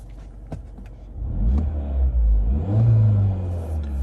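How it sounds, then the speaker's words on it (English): A Mini Cooper Countryman S ALL4 engine with a catless exhaust revs up hard and holds a loud, throaty roar, with a few sharp exhaust pops before it, close by. "I do have a catless exhaust, so the exhaust does sound a little bit louder."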